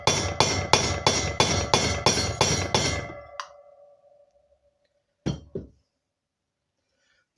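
Bar stock is hammered against a bearing to drive it out of a BSA Bantam D7 front wheel: about nine sharp, ringing metallic blows in quick, even rhythm, then a fading ring and two more isolated clinks.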